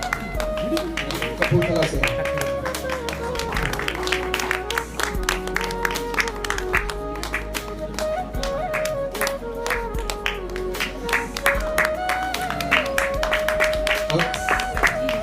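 Applause from the audience at a prize distribution ceremony, a steady patter of claps running the whole way under someone speaking over a microphone, with sustained musical tones in the background.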